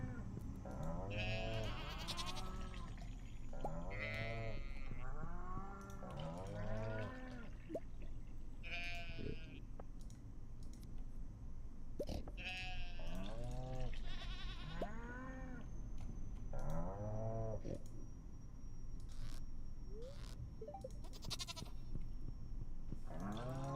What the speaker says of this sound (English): I love how much this sheep is producing wool.